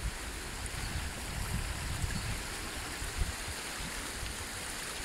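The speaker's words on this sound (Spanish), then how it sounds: "Este río está tan chulo y precioso, que está bien cuidado su entorno" A clear, well-kept river flowing strongly through a clean natural setting, a steady broadband rush of water with a low churning undertone, continuous and fairly loud throughout with no voices.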